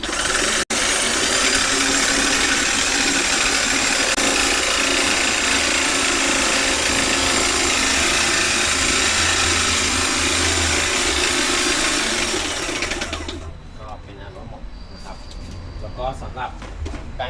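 A TWtools TWP1.4 electric paint sprayer running on its clean setting, a loud, steady mechanical buzz that goes on for about thirteen seconds and then cuts off, leaving quieter rattles and clicks with someone talking.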